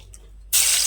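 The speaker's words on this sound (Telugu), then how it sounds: "ఇప్పుడు తాలింపు పెట్టేసుకుందామండి." Tempering hits a pot of mango rasam made with moong dal, a sudden loud hiss bursting in after a quiet moment and continuing strongly.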